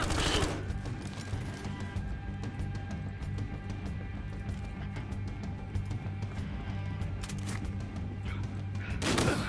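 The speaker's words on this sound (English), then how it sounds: "Oh, that's a shotgun." Gunfire rages in the video game Battlefield Hardline, a dense, continuous barrage of loud shots and impacts with sharper blasts at the start and end, shotgun fire among them, with no clear talk.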